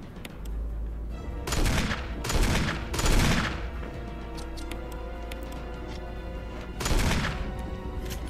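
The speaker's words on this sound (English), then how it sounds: "You give me rockets with this rocket launcher?" A rocket launcher fires in Resident Evil, with several loud, sharp blasts spaced about a second apart over a steady low game rumble, and one more near the end.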